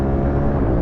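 A CF Moto motorcycle engine drones steadily while riding, a loud, continuous low rumble with no talk over it.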